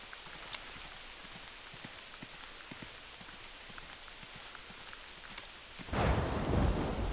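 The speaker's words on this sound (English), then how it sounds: "the sound effects of the rain is quite a bit too." Video game rain in a bay setting: steady light rain patters with scattered distinct drops, then a louder rushing swell of rain near the end.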